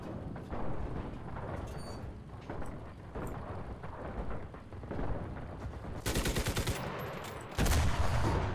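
Machine gun fire in the Enlisted game, Battle for Berlin, Russian side, rattles in dense rapid bursts throughout, growing louder and harsher in the last few seconds.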